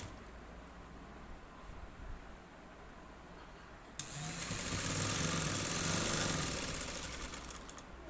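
A sewing machine stitches a fabric hem, starting abruptly after a quiet stretch and then running as a steady, close mechanical whir for about four seconds before easing slightly.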